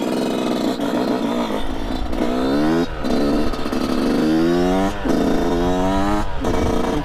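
A Yamaha YZ 125 supermoto engine warms up, idling loudly nearby, its pitch rising and falling in a few gentle revs as it runs continuously.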